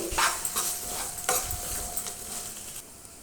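Ginger garlic paste frying in a pan gives a soft sizzle, with a few sharp scrapes and clinks of a spoon stirring against the metal; quiet, close and without talk.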